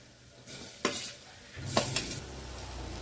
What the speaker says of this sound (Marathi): आता यामध्ये ना टोमॅटो घालूया